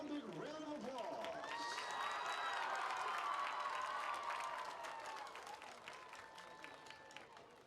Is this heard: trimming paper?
no